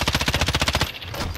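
Rapid automatic gunfire from a weapon in Call of Duty: Modern Warfare, a loud burst of about a dozen evenly spaced shots lasting under a second, then quieter game ambience.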